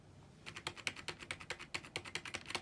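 Quiet, rapid typing on a plastic Corsair K55 RGB gaming keyboard with rubber-dome keys, a steady run of soft, close clicks and taps with no talking.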